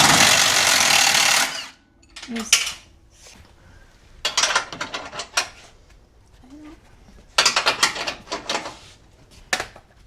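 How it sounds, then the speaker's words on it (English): Metal wrench clanks and ratcheting clicks ring out while an 18 mm wrench works loose bolts on a Can-Am during a teardown, coming in a burst of sharp, close knocks and scrapes followed by quieter clusters of metallic taps and clatter. "Now I'm going to bust off these bolts. I'm going to take the 18 millimeter wrench and hold that nut"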